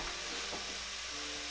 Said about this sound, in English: As you can see, I've got the mushrooms, onions, and garlic mixture in there. I am sauteing them per usual.